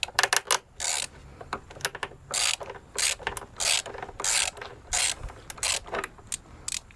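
A ratchet clicks in bursts while loosening a battery terminal on a Honda Odyssey, giving a close, rhythmic series of rasping clicks with short pauses between turns.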